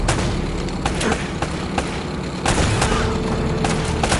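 Gunfire in the video game Uncharted, with rapid bursts of shots and booms repeating steadily over a dense, loud battle background, alone without speech.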